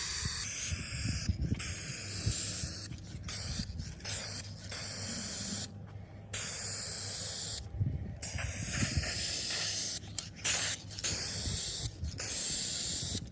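Bursts of aerosol finish hiss out in repeated sprays of a few seconds each, separated by short pauses, as a thick final coat goes on; close, steady and without talk.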